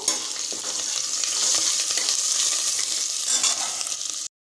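Green chillies and curry leaves frying in oil in a pan, stirred with a spoon: a loud, close, bright sizzle with scraping stir sounds that cuts off abruptly at the end.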